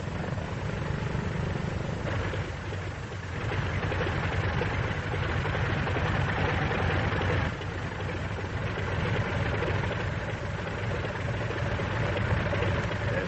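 An F4U Corsair fighter's piston aircraft engine drones steadily in a dense, continuous roar that holds at a constant level throughout with no talking, the muffled, narrow-band quality of an old training-film recording.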